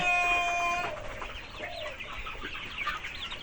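Sonali chickens cluck and murmur nearby on a poultry farm over faint background noise, with a sustained high tone fading out in the first second.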